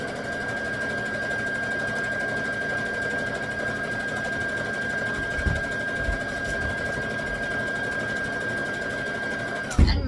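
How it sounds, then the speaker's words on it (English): A sewing machine hums steadily while stitching a wrap skirt, a continuous close whir with a faint whine that runs unbroken for about ten seconds before cutting off with a couple of soft knocks. "so I can quickly sew it"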